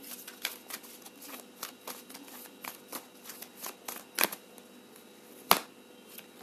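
Tarot cards being shuffled by hand, a close, soft run of papery riffles and flicks in an irregular rhythm, with a couple of sharper snaps near the end and no speech.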